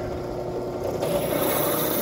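A drill works through knife parts to open holes for thumb studs, giving a steady close grinding rasp that grows slightly louder halfway through.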